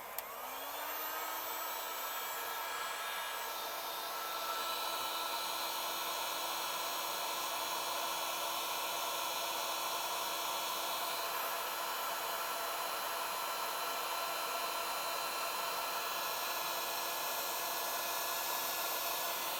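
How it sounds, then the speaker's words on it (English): A heat gun blows at a chip on a Vizio TV circuit board beside a heat sink. It starts up at once and holds a steady, loud hot-air roar and hiss for the whole stretch, alone and close. "Let's turn the heat gun on."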